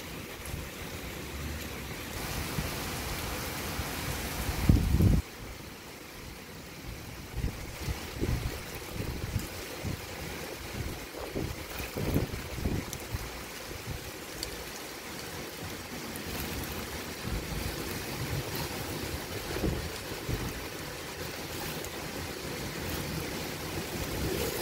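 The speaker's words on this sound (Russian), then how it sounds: "Вот такие порывы." Typhoon Maysak batters the outside of a window with strong wind gusts and rain, a loud rushing roar with a sharp surge around five seconds, then uneven buffeting that keeps swelling and easing.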